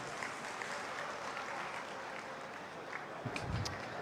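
Crowd applause rings out at a Haryana government commemorative festival for Guru Gorakshnath, a steady moderate clatter of many hands clapping at some distance, with a few louder thumps near the end.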